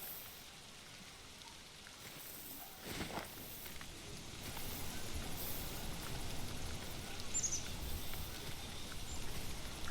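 Steady rain falls in the hunting game The Hunter: Call of the Wild on the Hirschfelden reserve, a constant soft hiss of drops with a muffled thump near the start, growing slightly fuller toward the end.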